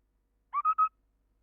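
An owl gives a quick series of three hoots, clear and close against near silence.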